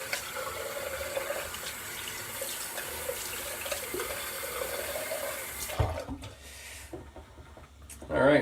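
Tap water runs steadily into a sink while someone rinses off mid-shave, a continuous close splashing flow that stops abruptly near the end, followed by brief handling knocks.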